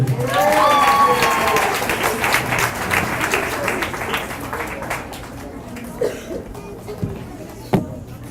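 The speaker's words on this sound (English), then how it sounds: "All right, a round of applause for Mrs. Smith for her class." A crowd at a school graduation ceremony applauds, dense clapping that starts full and loud then gradually thins out to scattered claps, with some murmured talk mixed in.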